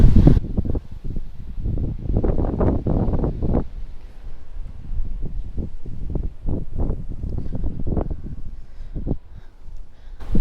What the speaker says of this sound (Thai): ทุกคนจะได้ยินเสียงลมโดยตลอด เพราะลมพัดแรงตลอด